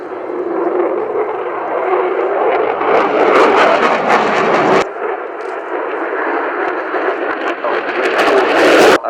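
An F-16 fighter jet with conformal tanks flying at the Royal International Air Tattoo at Fairford, a loud, continuous roaring engine rumble that cuts abruptly midway and then resumes, growing toward the end.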